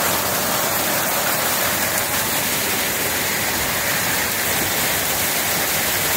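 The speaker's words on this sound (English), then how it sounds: "It's a really soft hail." Soft hail falling steadily and running off a roof in February, a constant broadband patter and wash like heavy rain, close and unbroken, with no talking over it.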